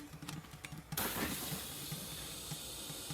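Water escaping from a leaking garden drip irrigation fitting: faint, rhythmic ticking at first, then a sudden steady hiss of spraying water that carries on alone, close by.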